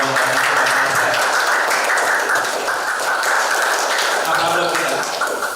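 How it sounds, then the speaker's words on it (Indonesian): Enthusiastic applause from a training session audience, a dense steady wash of clapping running loud and unbroken throughout, with voices mixed in. "tepuk tangan yang meriah dong"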